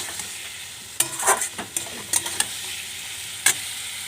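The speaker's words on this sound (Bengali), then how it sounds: "কষানো হচ্ছে" Spices sautéing in a pan with a splash of water, a steady sizzling hiss broken by a few sharp scraping stirs of a spoon, close and moderately loud with no talking.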